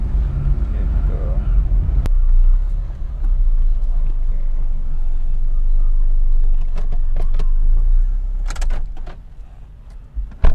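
Lowered Toyota Great Corolla on coilovers driving fast, a steady low engine and road rumble from inside the cabin, with people talking over it and a few clicks and knocks near the end.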